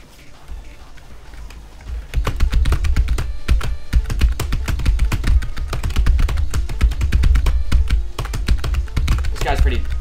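Loud clacky computer keyboard keys typed rapidly and continuously for several seconds, close up, with game sounds and a voice faintly underneath.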